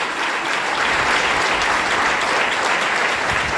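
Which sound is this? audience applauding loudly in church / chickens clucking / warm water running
audience applauding loudly in church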